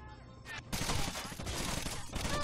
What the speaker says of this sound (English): they're still shooting at us